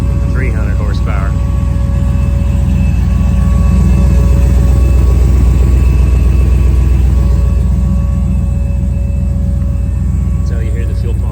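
A 920 horsepower Chevrolet squarebody truck engine runs with a loud, steady, deep low rumble, with a faint whine above it, while people talk nearby.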